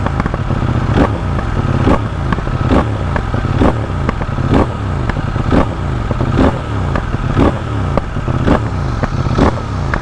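A CFMOTO 800NK motorcycle engine with its stock exhaust rumbles loud and close, revving in repeated rhythmic blips with crackling pops between them, with no talking over it.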